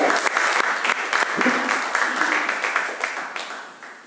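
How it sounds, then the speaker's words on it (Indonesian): A church congregation claps together during a Good Friday service. Dense, lively applause fills the hall for about four seconds, staying loud and then gradually tapering off. "Tepuk tangan dulu"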